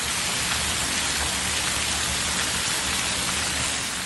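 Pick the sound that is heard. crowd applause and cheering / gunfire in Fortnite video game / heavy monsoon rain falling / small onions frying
heavy monsoon rain falling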